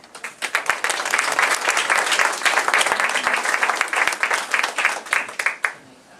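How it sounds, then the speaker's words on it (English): Studio audience on a CBS Radio Network show applauding, dense steady clapping that swells then thins out into scattered claps at the end. "Let's have an applause for the cat."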